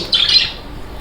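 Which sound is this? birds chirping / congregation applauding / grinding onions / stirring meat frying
birds chirping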